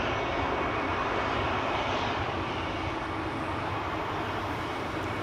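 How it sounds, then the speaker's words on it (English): A Boeing 737-800 bound for Malaga sits on the runway at Schiphol, its engines giving a loud, continuous roar with no break. "It's a 737-800 to Malaga"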